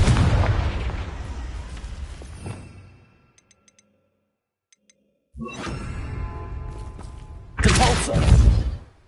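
Booming blasts of the Confringo fire spell in the game Hogwarts Legacy: a heavy rumbling explosion fades out, then after a silent gap more bursts build to a loud final boom.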